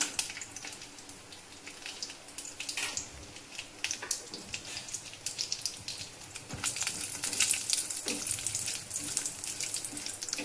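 Cashews and almonds dry-roasting in a kadhai, giving a continuous hissy, crackling rustle close by that grows somewhat louder toward the end, with no voices.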